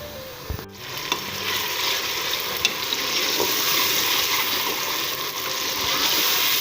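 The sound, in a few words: onions frying and sizzling in pan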